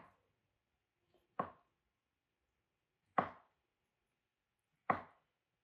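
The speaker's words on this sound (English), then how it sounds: "take our knife and just cut through" Chef knife chopping through food on a board during a Mexican sushi preparation: three sharp, isolated thunks spaced about two seconds apart, close and clear against near silence.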